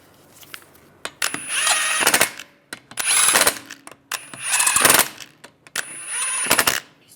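An impact wrench or power tool tightens the wheel lug bolts on a Volkswagen Beetle in four loud, close bursts of whirring and rattling, each about a second long, separated by short pauses.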